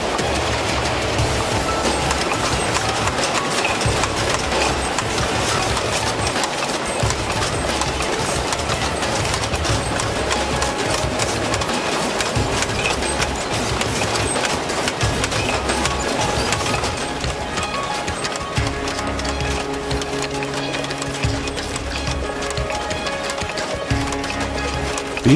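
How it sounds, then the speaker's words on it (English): Workers in a cork factory punch shapes out of cork strips, a dense continuous clatter of rapid mechanical thumps and knocks amid loud machinery, steady and close throughout. "The strips go straight to these workers, who punch the cork shapes out."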